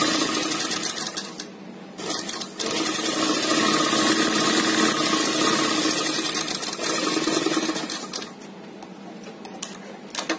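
Sewing machine stitching a straight seam, running steadily and loud for most of the stretch with a few brief pauses, its fast rhythmic needle chatter close and clear with no talking.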